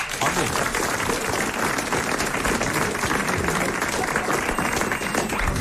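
A studio audience on a French radio comedy show breaks into loud, steady applause, continuous clapping that holds at full strength throughout.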